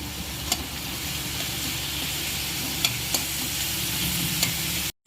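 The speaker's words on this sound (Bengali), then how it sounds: "এইবার কড়ায় তেল গরম হয়ে গেল, এতে পেঁয়াজটা ভেজে নেবো।" Onion sizzles and fries in hot oil in a pan, a loud continuous crackling hiss with a few sharp spatters and stirring scrapes, close up and without speech until it cuts off abruptly.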